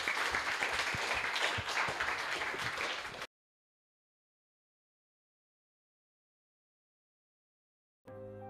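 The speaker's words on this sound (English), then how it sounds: "Let's give a big round of applause," Audience applause for a robotics team's robot: a few seconds of steady crowd clapping that cuts off abruptly into silence, followed by a brief burst of another sound at the very end.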